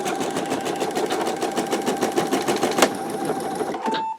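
An embroidery machine with a magnetic hoop stitches out a quilt in a fast, steady rhythmic chatter with a constant whine, and the needle stops abruptly near the end.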